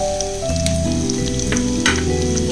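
Soybean chunks and potatoes fry in a pan, a steady loud sizzle running throughout with a few brief clinks and scrapes of stirring, no voices.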